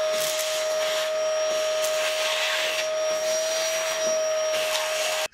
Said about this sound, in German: dann würde ich die Bohnen einfach mit dem Staubsauger hier raussaugen und weg sind die Bohnen.